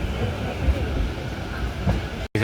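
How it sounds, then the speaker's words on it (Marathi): A Jan Shatabdi passenger train on the Mumbai–Konkan route halts at Savarde station, giving a steady close rumble of rolling carriages that stays level before a brief cut near the end. "बघू थांबली आपली ट्रेन इकडे"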